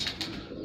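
Cooing pigeons, a few soft low calls repeating in quick pulses close by, with faint higher chirps over a steady murmur of background noise.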